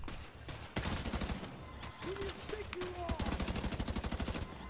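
Player's weapon in The Division 2 firing in rapid automatic bursts, with sharp repeated shots in several runs separated by short pauses, loud and close.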